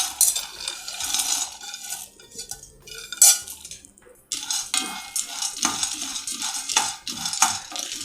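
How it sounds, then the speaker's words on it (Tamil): Groundnuts dry-roasting in a pan with a spoon stirring them: steady scraping and rattling strokes up close, fading briefly midway, then resuming with a brisk rhythm. "நிலக்கடலை வறுத்தது தான் அப்படின்னாலும் எகெயின் இன்னொரு தடவை வறுத்து எடுத்துடலாம்."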